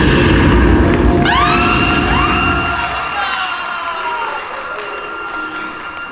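Wedding guests at a civil and customary ceremony break into applause with whoops and cheers, a dense, loud wash at the start that gradually thins and fades over several seconds.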